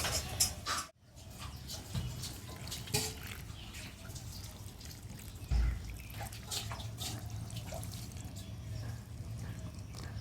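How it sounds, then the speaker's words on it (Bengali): Water pours and drips onto soil around freshly transplanted chrysanthemum seedlings in a garden, a soft, close trickle with splashes and light handling noise throughout. "এখন জল দিয়ে দিই"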